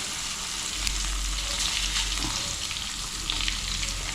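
Sardines fry Kerala style in a pan with a steady, close, hissing sizzle and an occasional faint stir or spatter, with no talking.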